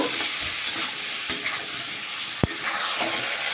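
Vegetables with salt and turmeric sauté in a pan, giving a loud continuous sizzle with stirring scrapes and a sharp utensil knock near the end.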